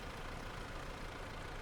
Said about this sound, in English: turn the engine off, and now